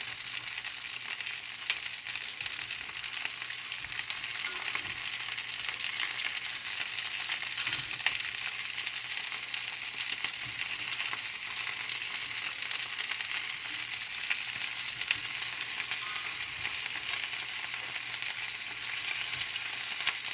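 Lamb chops searing in a cast iron pan give a loud, steady sizzle that holds evenly throughout, with faint clinks of tongs turning them over and no talking.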